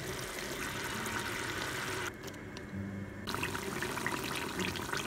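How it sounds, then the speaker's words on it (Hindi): Masala spices and yogurt fry in a pan for a korma, giving a steady, close sizzle throughout with a brief dip in the hiss partway through. "और अब मैं मसाला भूनूंगी।"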